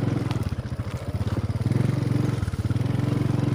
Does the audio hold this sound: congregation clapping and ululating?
no